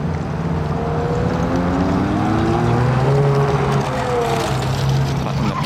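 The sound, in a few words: Ferrari 430 Scuderia sports car driving away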